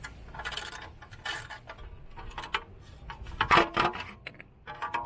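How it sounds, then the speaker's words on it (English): Torx T30 bolts being removed from the engine guard of a BMW R 1300 GS, with light metallic clinks, taps and scraping of tool and bolts in short scattered bursts, close and fairly quiet. "There are 6 Torx T30 bolts on the bottom. Remove all of them in any order."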